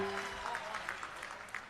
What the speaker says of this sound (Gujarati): એમની માટે એકવાર જોરદાર તાળીઓથી એમનું સ્વાગત કરીએ